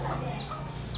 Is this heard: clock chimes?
no